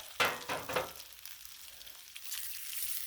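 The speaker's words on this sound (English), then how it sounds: "You don't need my advice on bacon. It's the first thing you cook on the griddle." Bacon sizzles and spits on a Blackstone griddle, with a few sharper crackles early on and then a steady, moderate hiss with no talk.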